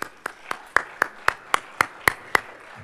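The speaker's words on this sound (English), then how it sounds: "please join me with a round of applause for all our three IPC co-chairs" Sharp, evenly spaced claps ring out about four per second, a steady rhythm of roughly ten crisp hits that sounds like a few hands rather than a full crowd, greeting the co-chairs of a space technology conference session.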